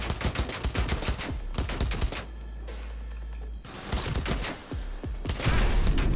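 Dense gunfire from the video game Cyberpunk 2077, with loud rapid volleys of shots at the start and end around a short lull where a low steady rumble takes over.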